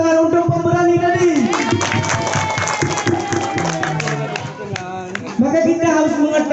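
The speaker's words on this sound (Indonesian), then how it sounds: "Mana tepuk tangan untuk pemberani tadi?" Kindergarten children in a crowded room at a Maulid Nabi gathering clap for a brave classmate while shouting and chattering voices and a child's call rise over the rapid, uneven patter of small hands.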